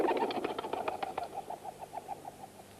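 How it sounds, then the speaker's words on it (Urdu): Pigeons cooing in a steady series of soft, repeated calls, a few sharper chirps and faint wing flaps at the start, moderately close with no talk. "یہ کبوتر بھی کسی زندہ مقام کی طرف اڑ کر جا رہے ہیں"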